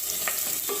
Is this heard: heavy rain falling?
no